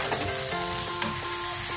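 Squid and leek greens sizzle in a hot frying pan while being stirred, a steady crackle broken by soft scraping strokes of the spatula.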